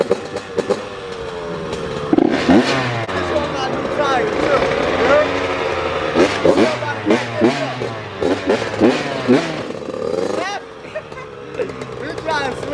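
Two-stroke dirt bike revving hard for first-gear wheelies, with sharp repeated rev bursts and crackling blips up close, mixed with excited voices talking throughout.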